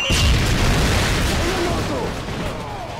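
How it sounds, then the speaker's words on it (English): A Semtex sticky grenade going off in Call of Duty, a loud close boom at the start trailing into a long rumbling decay, with voices chattering underneath. "Semtex over!"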